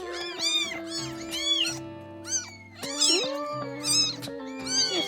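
Several young foster kittens meow loudly and insistently in repeated overlapping cries, close up, with brief pauses between bursts.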